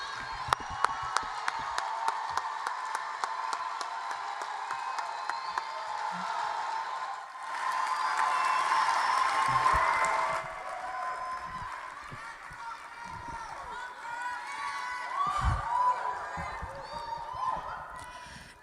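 Poetry slam audience at Verselandia 2017 cheering and applauding for a poet: a noisy crowd with whoops, shouts and clapping that swells and falls, mixed with voices, at moderate distance.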